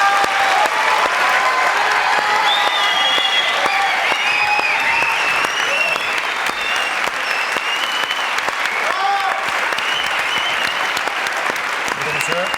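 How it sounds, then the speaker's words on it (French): A French television talk-show studio audience claps loudly and continuously for the whole stretch, a dense, even wash of applause with faint crowd voices mixed in. "Applaudissements, s'il vous plaît."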